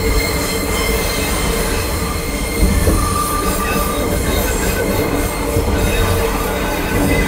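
A train on a winding track takes a sharp curve at very slow speed, with constant loud wheel squeal and rumbling rail noise heard close by from on board.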